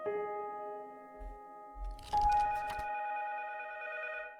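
A telephone rings with steady electronic tones inside the horror video game 12, Memory Lane, the ringing holding alone over a faint hum with a brief clunk partway through.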